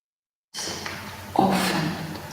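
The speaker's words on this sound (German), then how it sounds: "Ausatmen auf die Lippen" A slow, breathy exhale pushed out through the lips during a yoga breathing exercise, rising from silence into a steady airy rush that swells briefly halfway through and carries on for about two seconds, close and soft.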